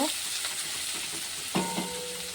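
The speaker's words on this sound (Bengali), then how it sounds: "তেলে পেঁয়াজ কুচি ভালো করে পেঁয়াজটা লাল করে ভেজে নেব" Chopped onions frying in oil for a bhetki fish-bone chorchori give a close, continuous sizzle, with a couple of brief clinks from stirring over the hiss.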